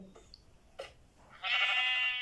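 A few soft, clicky Minecraft game noises give way to a loud, sustained bleat from a sheep near the end, heard alone.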